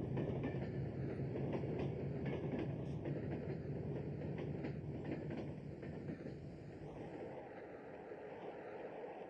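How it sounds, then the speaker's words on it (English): Driverless train rolling along a rail track near Edwalton toward Old Dalby during a nuclear flask crash test, a continuous rumbling roll with faint clickety-clack, heard from a distance and easing slightly toward the end. "The train was set in motion without a driver."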